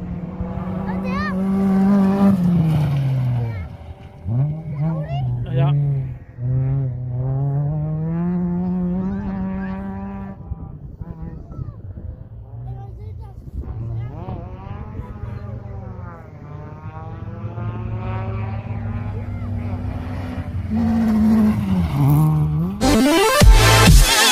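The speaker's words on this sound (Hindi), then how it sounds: "बहुत ज़बरदस्त कार रेसिंग आज हम लोग आए यहाँ पर लाइव देखने के लिए" Race cars at a live race in Berlin roar past in a series of rising and falling engine sweeps, loud and continuous, with voices talking nearby over the noise.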